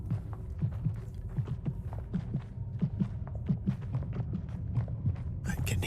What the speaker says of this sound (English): I can hear your heartbeat.